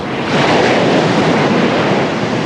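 Waves of the Indian Ocean rolling into Unawatuna bay in Sri Lanka, a loud, continuous broadband wash of surf with some wind rumble, no voices.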